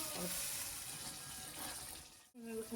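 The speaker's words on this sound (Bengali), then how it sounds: "এখানে জল দিয়ে দেবো," Water is poured into a cooking pot of fried potatoes for a cabbage and poultry dish, making a steady rushing pour for about two seconds before it cuts off abruptly, followed by a brief murmur of voice.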